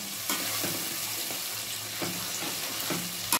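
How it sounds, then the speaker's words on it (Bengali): Ground spice paste fries in hot oil while being stirred, a continuous close sizzle broken by soft scraping strokes of the spoon at regular intervals, with no talking. "এবার এটাকে ভালো করে একটু নাড়াচাড়া করব।"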